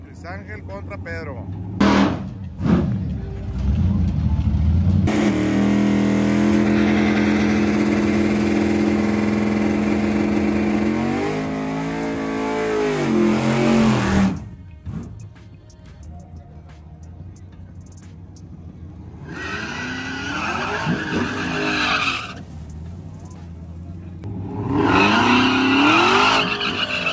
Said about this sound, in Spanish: Viene el Camaro de Pedro contra Luis Ángel el Flaco en su Camaro ZL1